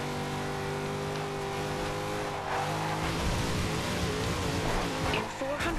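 Chevrolet Corvette Stingray in the racing game Forza Horizon 2, its engine droning and rising as it accelerates, with a brief tire squeal and game effects near the end.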